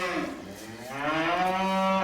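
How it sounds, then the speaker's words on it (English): Cattle lowing in a barn, several long, loud moos close by with rising, swelling tones, one animal calling most, no people talking. "So a little look at these cows. One's making all the noise."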